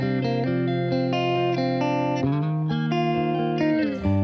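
An electric guitar played through a Princeton Reverb amplifier, miked with a Coles 4038 ribbon and a Neumann U87, rings out in sustained, overlapping notes and chords, close and full, with no voices.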